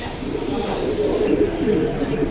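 A pair of racer pigeons coos softly and continuously at close range, a low throaty burbling over market chatter at a pigeon-selling bazaar.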